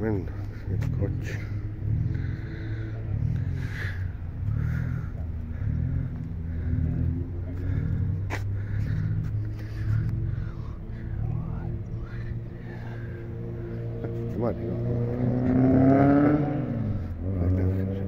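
A Chevrolet Corvette C3 Stingray engine rumbles near at a low idle with a rhythmic, loping pulse, then rises in a rev toward the end, while people talk over it.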